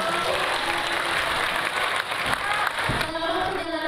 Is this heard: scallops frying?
no